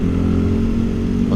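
A modified Yamaha Vixion motorcycle with raised shocks accelerating, its engine giving a loud, close, steady mid-pitched drone with rough clattering texture throughout.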